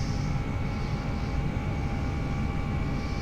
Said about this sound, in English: I'll power on and see if we can keep it reasonably straight and get going. Off we go, full power.